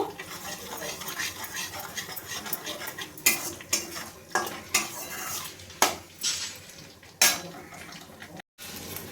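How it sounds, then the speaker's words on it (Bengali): A utensil scrapes and clinks against a pan in a steady series of strokes over a low sizzle of whole spices frying in oil. "ফোড়নটাকে আমি একটু ভালো করে ভেজে নেব।"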